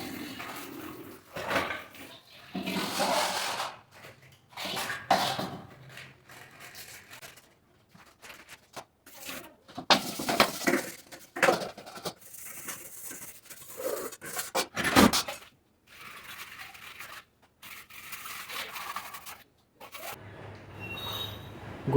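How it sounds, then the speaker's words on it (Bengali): Metal puja utensils for Gopal being scrubbed and rinsed in a home kitchen, with irregular clinks, rubbing scrapes and splashes in short bursts separated by quiet gaps, fairly close. "রান্নাঘরের পর গোপাল সোনার বাসনপত্র সুন্দর করে ধুয়ে নিতে হচ্ছে"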